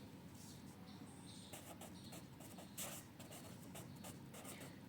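Pen writing out a Hindi grammar definition on paper, a soft continuous scratching with faint strokes, close and quiet, no talking.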